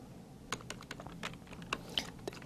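Key taps on a computer keyboard during accounting software data entry, a steady run of light, quick clicks with a few sharper strokes, close and fairly quiet, no voices.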